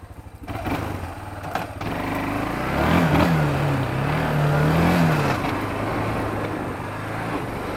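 A Kawasaki Bayou 250 quad idles and then revs up and settles, a close, loud, buzzy single-engine drone with a rising and falling pitch as the throttle opens.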